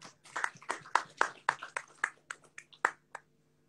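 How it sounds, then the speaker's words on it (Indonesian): Sparse clapping from a small audience at a book discussion, welcoming Erika forward; around a dozen separate claps in an uneven patter that thins out and stops after about three seconds. "Ini tepuk tangan dulu buat Erika."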